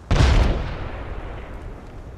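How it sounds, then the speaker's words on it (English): A grenade bursts in the video game Apex Legends with one loud, close, booming blast that fades into a long rumbling tail. "Grenade incoming."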